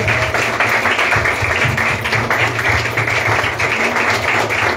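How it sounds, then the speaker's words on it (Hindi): Audience applause rises at a church revival thanksgiving fasting prayer service as a welcome, a continuous patter of many hands over a low, steady hum, fairly loud and without speech. "जोरदार तालियों के साथ हम स्वागत करेंगे"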